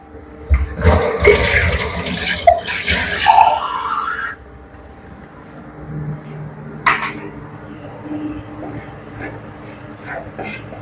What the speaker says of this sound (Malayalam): ഇത് വെള്ളം പിടിക്കാം